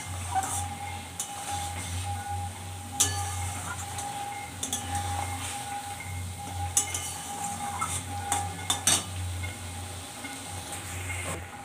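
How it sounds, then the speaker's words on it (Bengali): A spoon stirs raw mustard oil into a ground poppy seed paste in a bowl, giving steady soft scraping with scattered light clinks against the vessel, close and continuous with no talking. "আমি ভালো করে এটা পোস্তর সঙ্গে মিশিয়ে দিলাম।"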